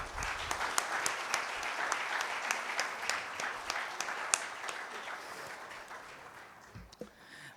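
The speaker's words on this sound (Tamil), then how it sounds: "பலத்த கைத்தட்டல் கொடுத்துடலாமா?" Faint, distant applause at a chamber of commerce anniversary celebration: sparse, individually audible claps repeating at an uneven rhythm, tapering off in the final seconds.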